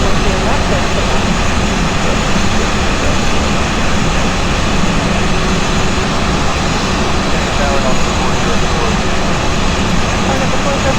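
An Airbus A320 taking off in X-Plane 11, a loud, constant jet engine roar filling the whole stretch with no letup.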